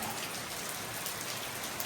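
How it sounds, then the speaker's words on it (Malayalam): Heavy rain pours steadily, a dense unbroken hiss of drops on surfaces with no voices or pauses. "നല്ല മഴ"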